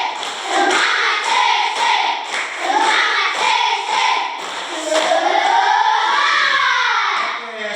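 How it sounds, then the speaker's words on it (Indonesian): Schoolchildren in a classroom doing a group spirit-clap routine, rhythmic bursts of clapping mixed with shouting voices, loud and close, repeating in waves throughout. "Banyak kali tepuk semangat."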